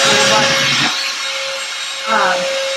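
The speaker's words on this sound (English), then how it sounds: "And then I used my hair dryer to dry it." A handheld hair dryer blows with a loud, broad rushing whoosh and a steady tonal whine, dropping in level for a moment before surging again.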